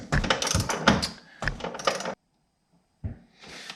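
A wrench ratchets and clicks as bolts are torqued to 65 foot-pounds on a QA1 front coilover suspension on a third-generation car. Two close, busy bursts of metallic ratcheting are split by a short silence.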